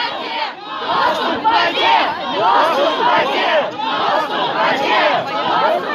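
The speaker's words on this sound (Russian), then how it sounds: "Они кричат позор." A protest crowd outside a rally shouts "shame" in Russian, loud rhythmic chanting in repeated bursts from many voices, continuous and close.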